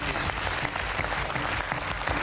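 Studio audience applause on a reality TV show, a dense, even roar of clapping that stays loud and steady across the whole stretch.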